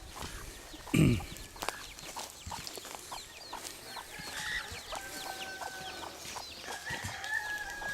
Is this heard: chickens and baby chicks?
yes